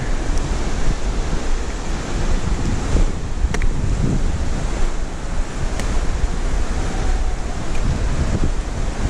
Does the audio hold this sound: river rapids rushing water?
yes